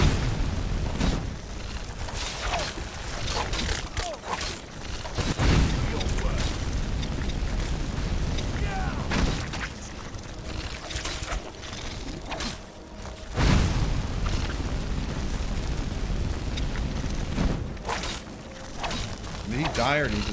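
Fire magic spells blasting in Skyrim, heavy whooshing booms and eruptive bursts recurring through the clip, with two especially loud hits, layered under near-constant talking.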